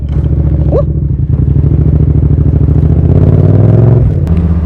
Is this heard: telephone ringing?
no